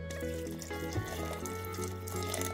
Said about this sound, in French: On va rajouter l'eau les filles, jusqu'au niveau de la viande.